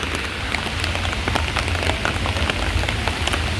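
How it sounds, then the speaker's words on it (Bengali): Steady rain patters on hard city streets in Bologna's old centre, with scattered drops splashing close by and a low rumble of distant traffic underneath. "বৃষ্টি ভেজা দিনে হাঁটছি শহরের মধ্যে দিয়ে"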